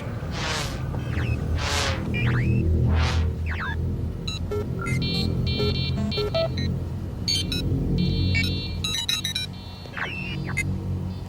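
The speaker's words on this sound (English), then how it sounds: "Cowgirl, start your engines." A car engine in the video game Tekwar rumbles low and steadily throughout, with whooshing sweeps early on and bursts of electronic beeps and tones layered over the drone.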